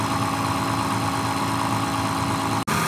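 A distributor test machine turning a distributor, heard as a loud, steady, close motor hum that cuts out very briefly near the end.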